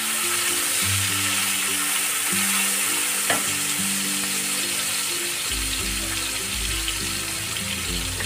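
Onion for a dhaba-style chicken gravy fries in a pan with a steady, even sizzle, stirred now and then with a faint clink, and a low hum runs underneath throughout.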